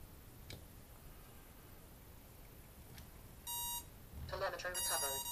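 Two short, high electronic beep sequences from a drone's motor controller sound close by against a quiet, hissy background, the second one longer and louder.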